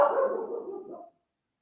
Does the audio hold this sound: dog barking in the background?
yes